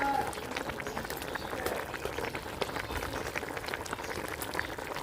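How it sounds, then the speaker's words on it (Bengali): Cabbage curry bubbles in a pot, a steady close simmer of soft popping and gurgling that holds evenly for several seconds. "বাঁধাকপির তরকারিটা কিন্তু ভালোভাবে ফুটতে গেছে"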